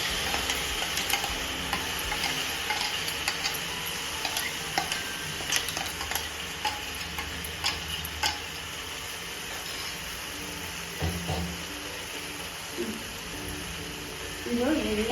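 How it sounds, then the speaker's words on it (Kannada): Ground masala paste and vegetables fry in hot oil in a pan for a bread peas pulao, giving a steady soft sizzle with occasional stirring scrapes and clinks, while a person talks over it. "ಸ್ವಲ್ಪ ಫ್ರೈ ಮಾಡಬೇಕು, ಎಣ್ಣೆಯಲ್ಲಿ ಫ್ರೈ ಆಗಬೇಕು ಜಾಸ್ತಿ"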